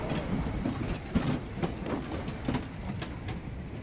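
Train rolling steadily along in the video game Voidtrain, a continuous mechanical rumble with faint rhythmic clicks and clanks over the track.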